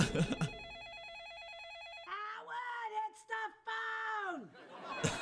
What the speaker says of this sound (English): I know it's the phone